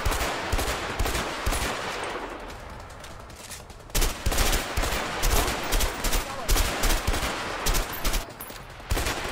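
Rapid gunfire in the video game A Way Out during a shootout in Mexico, with dense overlapping bursts and sharp cracks running throughout, briefly thinning before a renewed loud volley.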